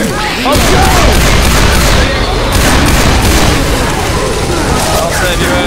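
Gunfire from a shootout in Left 4 Dead 2 on the Dead Centre campaign: dense, loud, nearly nonstop shots and booms that fill the whole stretch, with voices shouting over them.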